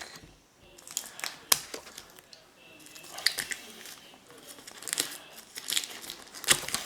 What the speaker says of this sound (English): So let me remove the plastic and I'll read the back really quick.